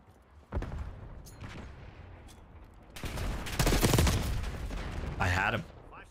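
Assault rifle fire in Black Ops 6, scattered shots early and then a loud dense burst of automatic gunfire midway, with a short final burst and speech in the background.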